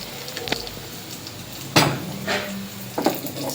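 Tadka tempering of garlic and curry leaves in a pan, with metallic clinks and scrapes of a utensil against the pan over a soft sizzling bed, a few sharp knocks spaced irregularly.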